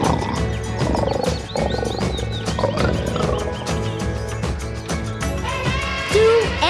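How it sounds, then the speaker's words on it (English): A loud animal roar rises over busy cartoon music, with the music and effects continuing throughout. "1 lion."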